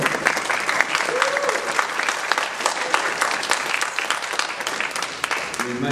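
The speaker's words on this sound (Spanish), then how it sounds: "hace un aplauso, por favor." Sustained audience applause at a Spanish-language presentation, dense steady clapping from a full room, with a voice briefly audible over it.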